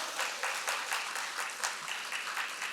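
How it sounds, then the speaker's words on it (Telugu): A gathering at a spiritual birthday celebration in Vijayawada claps together, producing a soft, moderately distant patter of hands with gentle rhythmic surges throughout. "ఒక్కసారి గట్టిగా చప్పట్లు కొట్టుకుందాం."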